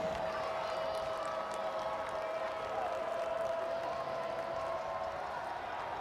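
A homecoming college football crowd at a ULL vs Eastern Michigan game makes a steady, distant roar with scattered applause, heard under a play-by-play commentator's voice.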